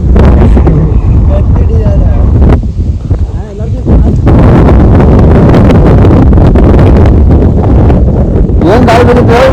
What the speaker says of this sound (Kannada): ಏನ್ ಗಾಳಿ ಬಂದಿತ್ತು?